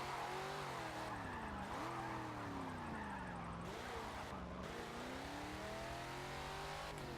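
A car drifting in Forza Motorsport 7, its engine droning and revving up and down with long wavering tire squeals, steady and continuous at moderate volume.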